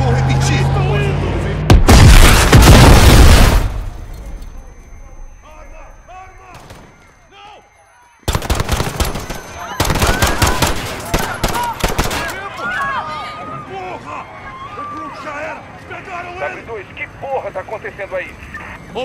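Gunfire and explosions in the Call of Duty Modern Warfare video game, loud bursts of rapid shots and booms interrupted by quieter stretches with voices talking between them.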